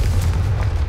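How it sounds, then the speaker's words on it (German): An explosive fire spell going off in Hogwarts Legacy, a short heavy rumbling boom with a deep low-end roar. "Also ist Explosionsfeuerzauber"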